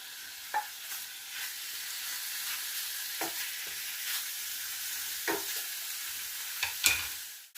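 Beef browns in a pan for beef bourguignon, a steady close sizzle and fry with occasional stirring scrapes and clinks of a utensil, no talk.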